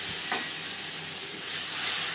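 Tomato and green chili paste hits hot oil with fried nigella seeds, a steady close sizzle and hiss running throughout with a brief stirring scrape near the start.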